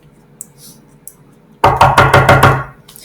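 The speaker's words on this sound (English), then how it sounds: "knocked on the door" Knocking on a wooden door in a read-aloud fairy tale, a quick series of about five or six firm, hollow raps, loud and close, following faint soft tapping.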